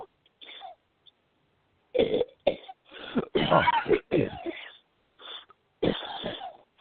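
Several short, harsh coughs and throat-clearing bursts come in irregular clusters, close to the microphone, with brief quiet gaps between them.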